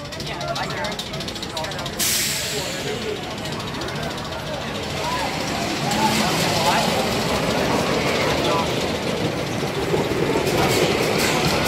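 A roller coaster at Michigan's Adventure rumbles and clatters along its track through tunnels and up the lift hill with a steady hiss and rattle, while a voice talks over the noise.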